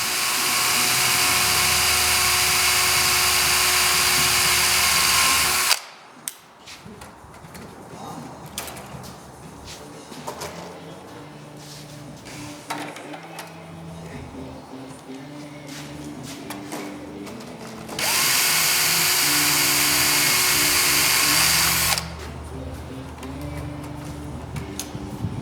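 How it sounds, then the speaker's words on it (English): A power drill bores holes in an aircraft elevator trim tab, spar and ribs in two long, loud, steady high-pitched whines, with quieter handling clatter and shuffling between them. "got our holes transfer drilled for the elevator trim tab, spar, and ribs"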